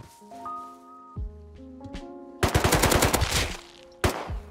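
Automatic rifle fire in the survival video game Rust: a loud rapid burst of gunshots follows several seconds of tonal game sounds, then a second short burst, with no talking.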